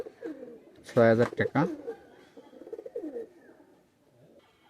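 A pair of Oman 128 pigeons coos softly in the background while someone speaks loudly over them for most of the stretch.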